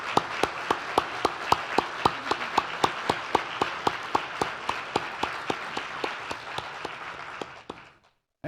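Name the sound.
audience applause for sponsors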